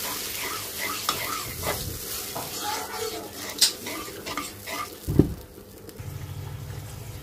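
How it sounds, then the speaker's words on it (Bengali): Ground spices, tomato, salt and onion frying in a pan with a little water while being stirred, sizzling with scraping utensil clatter and one loud knock, easing into a quieter simmer. "অল্প একটু পানি দিয়ে মশলাটা কষাবো।"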